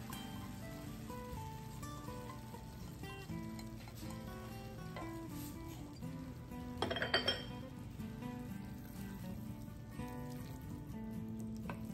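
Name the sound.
stirring red quinoa with tuna and vegetables in a pan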